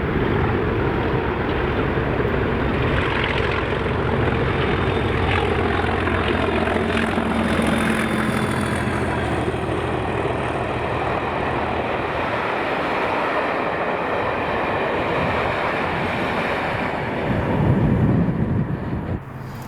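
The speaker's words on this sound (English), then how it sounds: "the train is now 1Z37 Edinburgh to Fort William, passing at around" Passenger train 1Z37, Edinburgh to Fort William, rumbles past near Bowness Loops with a steady, loud engine and wheel roar lasting throughout, swelling slightly toward the end.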